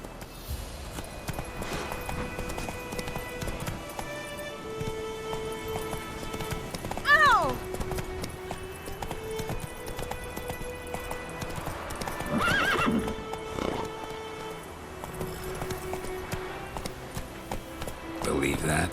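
Roach the horse from Witcher 3 trots with steady clip-clop hooves throughout and gives two loud neighs partway through, heard against background game ambience.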